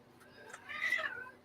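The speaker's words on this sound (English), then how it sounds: "these damn cats" A house cat gives a single drawn-out meow that swells and fades, close by and fairly quiet over faint room noise.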